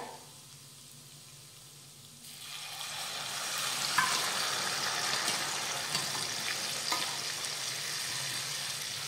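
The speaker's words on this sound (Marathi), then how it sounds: "आता यामध्ये घालूयात शिजवलेली डाळ" Cooked dal is added to spices frying in a pan: after a quiet start, a loud steady sizzle swells up and continues as the mixture is stirred, with faint scraping.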